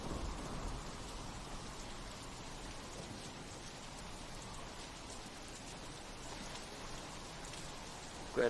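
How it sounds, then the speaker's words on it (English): Steady rain falls continuously, with faint rumbles of distant thunder beneath the hiss, in a dramatized stormy scene; no voices are heard over the downpour. "Don't stand out in the rain, fool."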